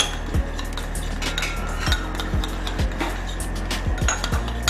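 Sauce ingredients with garlic stirred in a bowl, a spoon clinking and scraping against the dish in a loose repeated rhythm, close and clear.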